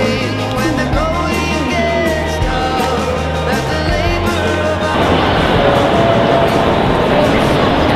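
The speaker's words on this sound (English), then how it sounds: "So we're walking through the train station" Busy Shanghai train station ambience with a low rumbling drone, overlapping murmur and rolling noise that shifts into a broader, hissier wash partway through.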